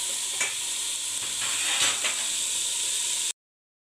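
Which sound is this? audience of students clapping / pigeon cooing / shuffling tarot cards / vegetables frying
vegetables frying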